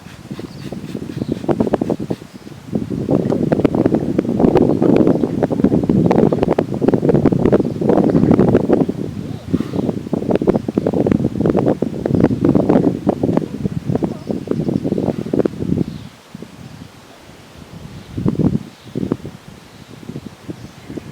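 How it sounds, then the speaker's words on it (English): Steady outdoor wind blows loudly across the microphone near a horse, a broad rushing roar with gusty surges that dips briefly toward the end. "The wind's blowing."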